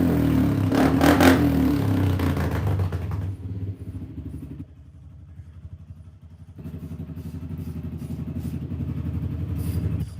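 A warmed-up Kymco-built Kawasaki quad runs close by with a loud, rough engine note: it revs up strongly at first, drops to a lower, even idle, then climbs back to a busier, buzzing rev.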